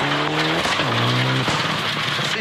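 Rally car racing flat out on a gravel stage at Rally New Zealand 2008, engine roaring loud and steady with gear changes as the tires skid and scrabble underneath, close and continuous.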